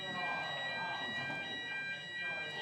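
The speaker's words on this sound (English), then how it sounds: "That sounds like a fire alarm." A fire alarm sounds at a football match venue, a continuous high electronic tone held steady throughout, moderately loud over a murmuring background.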